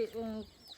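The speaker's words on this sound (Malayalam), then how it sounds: "കോഴി ഉണ്ട് അല്ലേ അപ്പോൾ ഇവരുടെ വീട്ടിൽ കോഴിയൊക്കെ ഉണ്ട് കേട്ടോ" Chicken at a rural house giving a short harmonic cluck, close and brief, with a faint voice trailing at the end.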